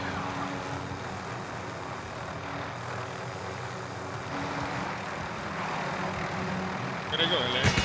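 Helicopter in a video game flying nearby, a steady, loud whirring drone that holds throughout with little change in level.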